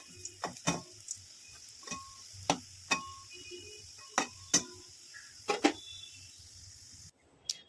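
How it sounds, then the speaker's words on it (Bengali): Bora fritters frying in a pan give sharp, scattered pops and crackles every second or so over a faint, quiet background. "আমি বড়াটা ভাজছি"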